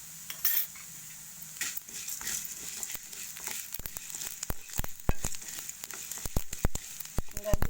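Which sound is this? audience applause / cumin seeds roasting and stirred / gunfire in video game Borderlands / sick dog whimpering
cumin seeds roasting and stirred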